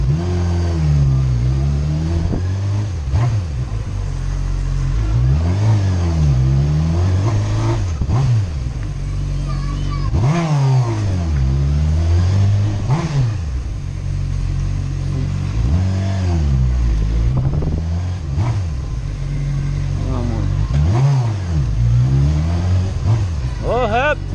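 A Honda CBR600F motorcycle engine revs up and falls back again and again in a steady, rising-and-dropping pattern, loud and close, while people talk over it throughout.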